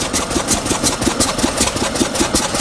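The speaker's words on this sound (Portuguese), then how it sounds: "ele vai devagarinho, devagarinho parando o seu motor, que é rotacional" An 1886 Benz motor car's single-cylinder rotary engine runs loud and close as it is switched off, a steady rhythmic chugging with no speech over it.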